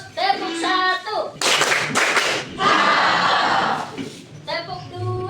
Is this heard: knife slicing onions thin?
no